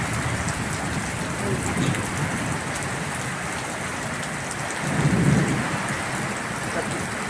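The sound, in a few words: heavy rain and thunderstorm during a cyclone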